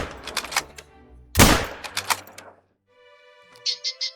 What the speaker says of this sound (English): we are going to pull out our 243 here and take the shot